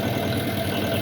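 A 2020 Tata X2 truck diesel engine idles at 600 rpm with no throttle, a steady low rumbling drone that stays constant and fairly loud, close by and alone.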